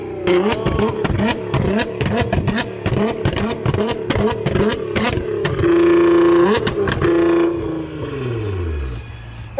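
A Nissan GTR's exhaust barks through rapid, sharp revs with crackling pops and bangs, close and very loud, before a sustained high rev and a falling tone as it settles.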